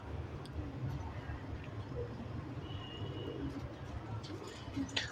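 Pigeons coo softly in a loft over steady background noise, with faint scattered chirps.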